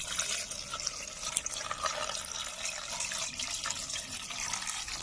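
Tap water runs steadily into a sink while shelled prawns are rinsed, a constant close splashing hiss with small drips and no voices.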